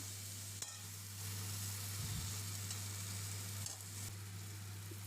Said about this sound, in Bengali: নুন দিয়ে একটু নেড়ে নিচ্ছি টমেটোগুলো